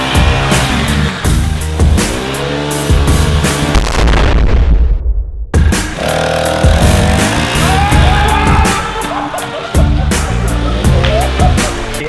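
A Volkswagen Touareg with a straight open exhaust roars at full throttle through an all-wheel-drive burnout, loud and harsh with booming pops and bangs, a sudden brief cut, then more blaring revving and crackling backfires.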